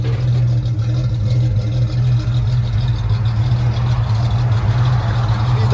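A 1969 Ford Falcon with an inline six and dual Flowmaster Super 10 exhaust idles close by, giving a steady, loud, low rumble with a slight lope that carries through the whole stretch without pause.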